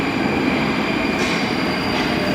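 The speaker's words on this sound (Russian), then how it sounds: "И как раз прибывает поезд." A Moscow metro train rolls loudly into a station, a steady rumbling roar with a high metallic whine and faint brake squeal.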